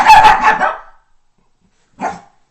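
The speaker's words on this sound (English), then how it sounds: "That was my dog." A pet dog barks close by in a house, a loud burst of several quick barks followed by a pause and one more short bark, with no talking.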